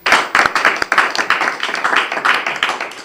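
Audience applause at a Valentine's Day special broadcast: a dense, steady patter of many hands clapping close by for about three seconds, with no talk over it.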